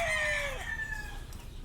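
Young gamecock stags on a farm crow loudly in a near, drawn-out call that trails off, with low background rumble and other birds faintly behind.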